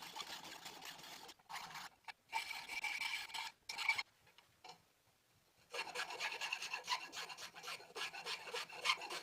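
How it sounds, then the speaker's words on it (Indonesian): A hand file rasps a drilled hole in an acrylic part, quiet rapid scraping strokes in long runs broken by a few brief pauses, with no talking. "Kemudian haluskan lubang dengan kikir."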